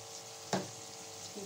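Nigella seeds and turmeric dropped into hot oil, a sudden close burst of sizzle that quickly settles back to a low, steady frying hiss.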